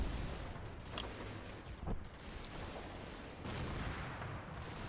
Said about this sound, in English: That explosion there is this Panzerschreck team firing off Panzerschrecks